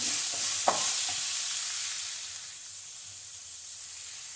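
Onions fry in a kadai of hot oil, a steady sizzling hiss with a few sharp clinks of a spoon early on, the sizzle easing slightly in loudness toward the end, no talk.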